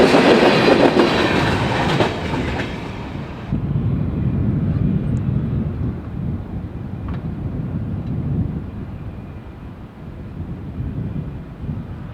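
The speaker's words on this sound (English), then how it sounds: "Some National Guard helicopters are flying over after just taking off from the Gary-Chicago airport to the south" National Guard helicopters that have just taken off from Gary-Chicago airport pass overhead, a loud broadband roar that eases into a steady, more distant rumble and slowly fades.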